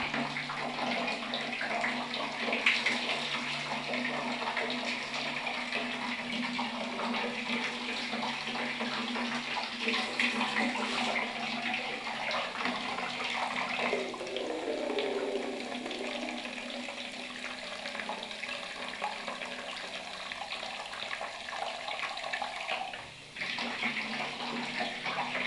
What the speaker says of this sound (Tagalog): Itatapon ko uli yung tubig para makita nyo yung totoo.